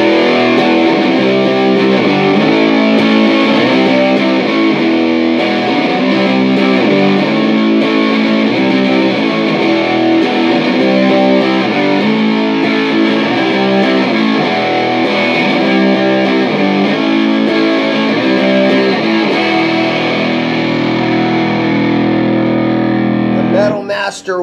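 Electric guitar played through an Arion Metal Master SMM1 distortion pedal, a loud, saturated, gritty riff with repeated chugging chords and sustained notes for over twenty seconds, cutting off abruptly at the end.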